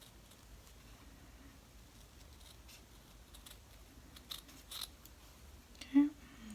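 Scissors snip through fabric while cutting out a piece of in-the-hoop embroidery, a few quiet, scattered cuts that build to one sharper, louder snip near the end, soft and close in a quiet room.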